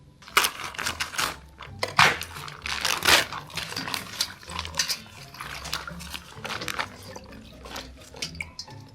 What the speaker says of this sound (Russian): Теперь необходимо слить эту воду